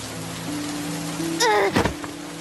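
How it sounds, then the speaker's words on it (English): Rain falls outdoors as a steady, even hiss that swells slightly louder partway through, with a brief tonal sound rising over it midway. "And the rain was getting stronger."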